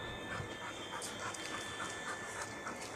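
A dog pants rapidly and excitedly in quick, rhythmic breaths close by, with a faint whimper, during a recall training session and without speech.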